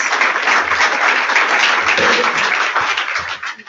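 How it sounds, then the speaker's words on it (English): A crowd applauds steadily and loudly, many hands clapping in a dense wash that holds for several seconds before tapering slightly at the end. "have a round of applause."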